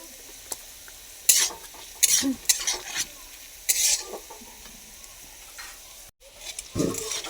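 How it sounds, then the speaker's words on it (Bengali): Carrots frying in a pan of hot oil, stirred in several short scraping bursts over a soft, steady sizzle, close and fairly loud, with no voices. "আমাদের গাজরটা মোটামুটি ভাজা হয়ে গেছে।"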